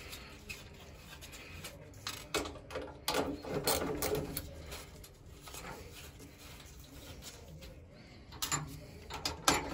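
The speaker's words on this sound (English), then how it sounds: "We're now going to take a socket set and take out 1, 2, 3, 4, 5 bolts." A socket set ratchet works bolts loose, giving quiet bursts of rapid clicking and metallic handling noise, close but faint, with pauses between the turns.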